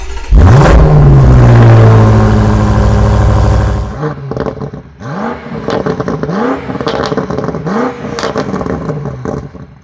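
A 2023 BMW M5 Competition in Marina Bay Blue Metallic blips its 617 hp engine, a loud close rev that falls away, followed by several shorter throttle blips with mechanical clatter.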